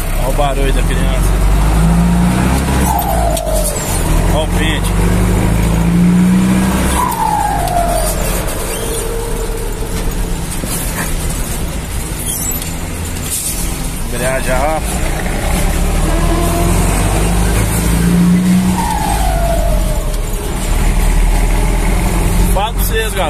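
A Ford F350 truck with a turbocharged, intercooled 608 engine idles and revs in steady, loud waves, rising and falling pitch several times, with faint voices in the background.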